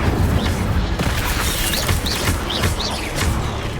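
An Incendio fire spell is cast in the Hogwarts Legacy video game, a loud, sustained roaring whoosh of game effects carrying several short bright chirping accents over a dense low rumble.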